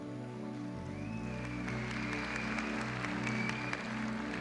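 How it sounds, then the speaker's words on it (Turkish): Audience applause fills the hall at the 2005 Kral Music Awards ceremony, a steady wash of clapping sustained for several seconds over a held musical tone and low hum. "Güzel alkışlarınıza"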